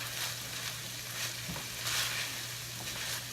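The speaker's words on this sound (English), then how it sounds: "I'm going to saute this for probably about a minute" Shredded carrot wonton filling sizzles steadily in a hot pan, with a few soft scrapes of stirring breaking through the constant frying hiss, close and fairly quiet, with no talking.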